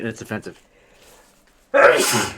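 A single loud sneeze bursts out after a moment of quiet, following brief talk at the start.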